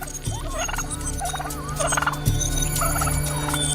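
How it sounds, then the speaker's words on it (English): Brush turkey gives a series of short warbling, gobble-like calls in four or five spaced bursts, set against a constant background bed with a couple of low thumps. "In a cruel twist of fate, brush turkeys cease looking after their young as soon as they hatch"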